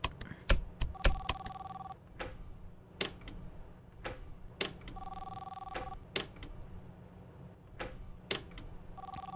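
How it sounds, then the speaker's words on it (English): A telephone rings repeatedly in the POPGOES horror video game, short double-tone bursts recurring every few seconds over a steady low electrical hum and sharp intermittent clicks. "Answer the goddamn phone."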